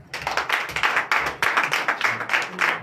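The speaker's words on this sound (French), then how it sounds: "Donnez l'acclamation à Jésus." A church congregation at a Sunday service in Benin claps in quick rhythmic bursts, loud and close, with a faint low voice or murmur underneath.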